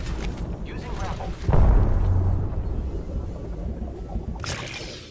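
In a shooter video game, a frag grenade goes off partway through with a deep, heavy boom, and its rumble trails off over a few seconds while a voice talks nearby.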